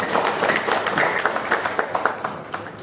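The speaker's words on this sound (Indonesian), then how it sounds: "kami mengucapkan ribuan terima kasih dan tepuk tangan yang meriah untuk Pak Tri." Audience applause at an education event on inclusive teaching, distinct close hand claps in a quick uneven rhythm, loud and fairly sparse, with no talking.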